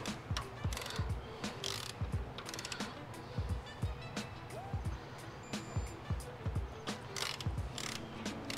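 A hand wrench ratchets steadily while bolts on an aluminum engine part of a 1996 Acura Integra GS-R with a B-series VTEC engine are torqued, producing continuous close, rhythmic clicking with soft metallic knocks.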